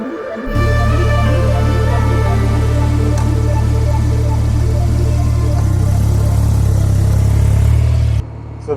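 Steady, loud drone of a BMW R12 G/S boxer-twin motorcycle engine under way, a deep even hum that pulls a little harder toward the end before cutting off abruptly.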